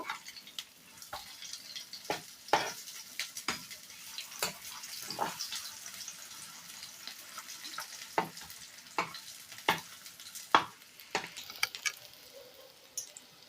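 A rice flour snack frying in a pan gives a quiet continuous sizzle, broken by a scattering of sharp spatula taps and scrapes at uneven intervals, close by with no voices.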